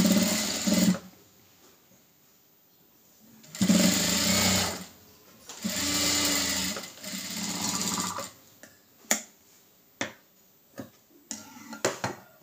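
A sewing machine stitches a blouse, running in several loud bursts of a second or more each, separated by quiet pauses, then a series of sharp clicks and taps as the fabric is adjusted.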